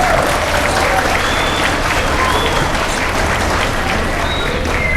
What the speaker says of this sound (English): I just want all of us to give a round of applause to Governor Kako and his leaders.